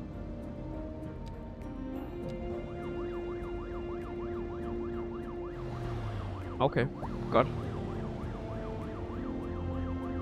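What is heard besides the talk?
police car siren in the CitySky video game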